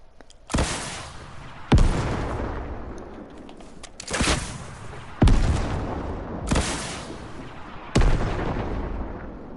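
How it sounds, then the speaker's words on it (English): Six heavy, booming shots from a gold gun in the Fortnite game go off at irregular intervals about a second or two apart, each loud blast trailing into a long rumbling decay. "Here's the gold gun."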